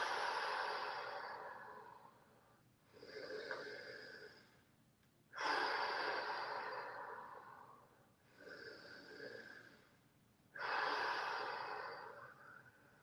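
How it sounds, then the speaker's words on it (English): Slow, deep breaths during a guided breathing exercise, in five long cycles of inhale and exhale, each swelling then fading, close and clear with no talking. "Back to breathing. So breathing in."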